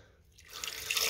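A small amount of water pours into a blender cup for rinsing, building from a faint trickle into a brief, close splashing stream that grows louder.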